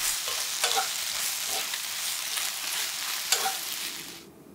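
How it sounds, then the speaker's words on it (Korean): Onions and eggplant sizzle loudly in a hot pan as a utensil stirs and scrapes several times, then the frying noise drops away at the end. "충분히 섞어주고 양파의 식감이 살아있게 볶아줍니다"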